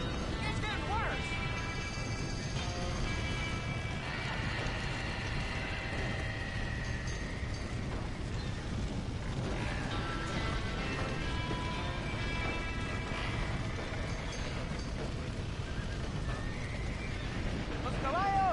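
Horses neigh and whinny repeatedly over the rumble of hooves and commotion in the Western video game Red Dead Redemption, several shrill calls rising above a busy, continuous background with shouting voices.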